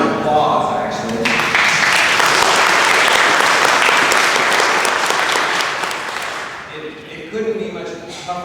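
Audience applause for a program director at a country church gathering: a full, dense burst of clapping that swells quickly, holds steady for several seconds, then tapers off, with voices emerging near the end.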